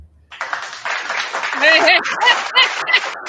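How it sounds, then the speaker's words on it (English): A recorded applause sound effect played on a podcast, a burst of crowd clapping and cheering with a few whoops, heard close alongside some laughter and voices. "Here you go with this random applause."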